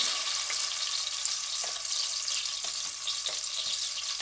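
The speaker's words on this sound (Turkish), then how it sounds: "Güzelce yağımızda kavuruyoruz" Pepper and tomato paste sautéing in oil in a pan for a soup, a soft, steady sizzle with faint periodic scraping from stirring, no voices.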